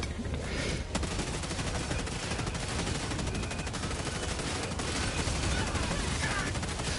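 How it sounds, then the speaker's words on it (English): Sustained machine gun fire in Helldivers 2, a dense, continuous rattle of rapid shots lasting throughout, loud and close, with battle noise layered underneath. "There's an MG."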